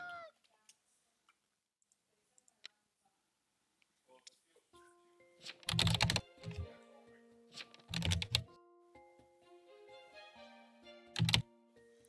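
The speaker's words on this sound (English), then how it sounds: "I can hear you typing." Clicks of typing on a computer keyboard during an online co-op gaming session, coming in scattered clusters and short bursts amid quieter stretches, with other voice and game sounds mixed in.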